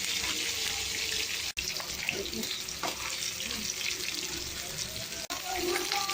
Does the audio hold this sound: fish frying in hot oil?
yes